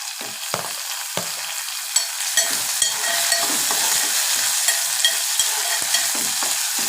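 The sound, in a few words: onions and green chillies frying in hot oil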